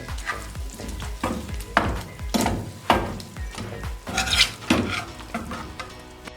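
Tawa chicken boti being scraped and stirred out of a hot iron tawa, with repeated metallic scrapes and clinks of a spatula over a steady sizzle, close and fairly loud with no talking.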